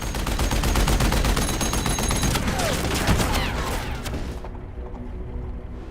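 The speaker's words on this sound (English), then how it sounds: "Bullets tore through the air, but Artemi and his horse managed to escape." Rapid bursts of gunfire crackle loudly and densely for several seconds, a chaotic volley that thins out and fades near the end.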